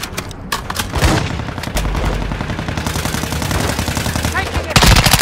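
Rapid, dense gunfire in Call of Duty Modern Warfare 2 DMZ mode, sniper shots among continuous loud firing throughout, with a sharp burst near the end.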